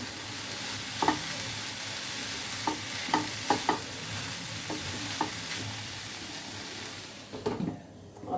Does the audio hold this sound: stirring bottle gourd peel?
yes